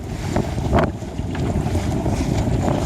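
Wind rushes steadily across a sailboat during a race, with loose sails flapping and water sloshing against the hull, a continuous loud broadband roar buffeting the microphone.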